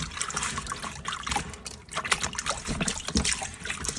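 Baking soda water poured onto weakened paper for a turmeric sun print, a steady close trickling and splashing with small drips and no talking.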